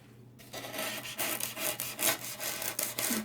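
A blade saws through a block of styrofoam to trim its corners at an angle, giving a run of close, rhythmic scratchy rubbing strokes with no talk over them.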